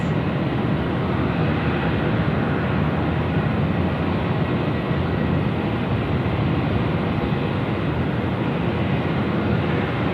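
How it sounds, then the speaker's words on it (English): Airbus A380 airliner on final approach at Sydney Airport at night, a steady broad jet roar that stays constant and fairly loud throughout with no talk. "A380 on finals now as well."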